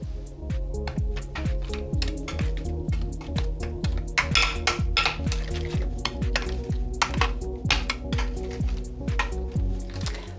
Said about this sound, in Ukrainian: І починаємо все це перемішувати.